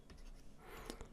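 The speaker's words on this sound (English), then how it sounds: "I'm going to write out the equation of the circle" Pen scratching on paper while a circle equation is written out by hand, a brief, faint run of small strokes and taps, close and quiet.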